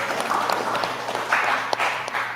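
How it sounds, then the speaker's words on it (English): Audience applause at a business summit, a steady wash of clapping with scattered sharper claps, fairly close and sustained, with some voices mixed in. "clap it up."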